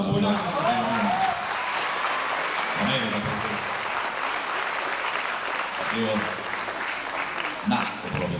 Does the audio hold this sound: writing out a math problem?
no